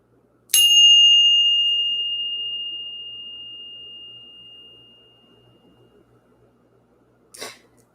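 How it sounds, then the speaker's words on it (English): A single bell struck once to clear energy, ringing out with a clear sustained tone that slowly fades over several seconds in a quiet room, followed later by a soft brief knock. "Let's ring this bell."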